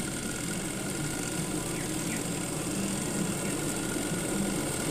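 The wash motor of a Sharp washing machine with dryer, repaired after spinning weakly, runs with a steady low mechanical hum and faint vibration, continuous and even throughout with no talk.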